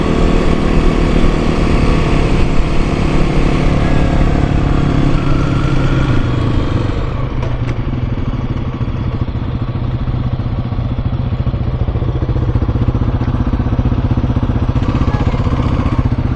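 Yamaha TW200 and Kawasaki KLX300 dual-sport motorcycles riding, with a loud continuous engine drone and wind buzz that stay steady throughout, heard from the rider's position.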